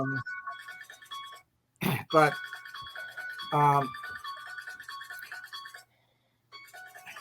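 A phone rings with a repeating electronic tone in a room while people talk over it, the ringing pausing briefly and returning amid the conversation.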